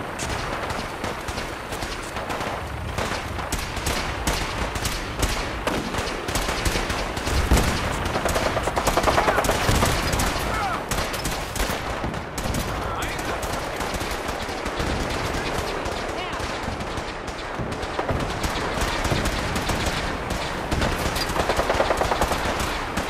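Gunfire in the video game Fallout 4 rattles on loud and steady in dense, continuous bursts of rapid shots, with a few heavier booms mixed into the din.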